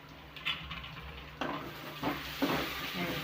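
Onions and dried prawns fry in oil as a spoon stirs them, with a continuous close sizzle broken by several distinct scraping strokes against the pan.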